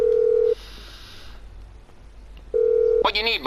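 In-game phone in GTA 5 Online dialing a call: a steady electronic tone, a pause with faint background, then the tone returns and a warbling ring-like burst follows.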